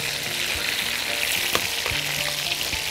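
Sliced mushrooms and garlic sizzle loudly in a hot pan, a dense steady crackle broken by a few knocks and scrapes of stirring.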